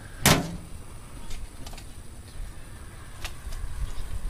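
A vertical smoker's metal door is pulled open with one sharp clack near the start, followed by a few fainter knocks and rattles over a low ambient hum.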